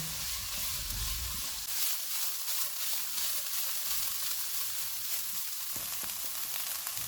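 Onions with salt, crushed black pepper and crushed red chili sizzle steadily in hot oil in a pan, a soft, continuous frying hiss with faint stirring, no voices.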